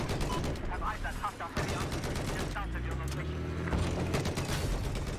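Machine-gun fire and heavy tank cannon blasts from the video game Battlefield 4, dense continuous bursts of rapid gunfire throughout, loud and close, with voices speaking over the battle noise.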